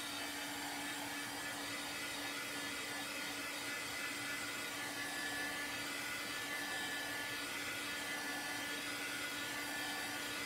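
A hair dryer blows steadily on a chalk paste home decor craft piece, a continuous even whir with a constant hum, loud and alone throughout.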